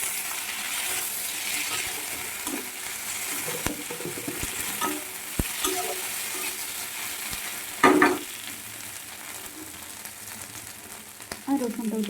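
Ginger and a dried red chili fry in oil, a steady close sizzle with clinks and scrapes of a utensil against the pan and one louder clatter partway through.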